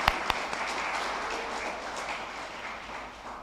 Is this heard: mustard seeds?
no